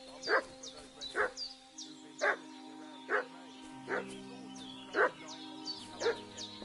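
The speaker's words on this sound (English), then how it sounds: "What's that dog making such a fuss about?" A dog barking in the video game Kingdom Come 2, with about eight sharp barks at a steady rhythm of roughly one per second, set at a moderate distance over a soft ambient game background with no speech.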